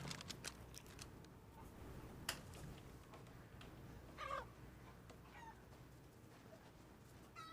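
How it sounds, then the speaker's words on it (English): Chickens cluck in a few short bursts inside the horror video game Resident Evil Village, faint and scattered over a low, steady background drone. "There's chickens."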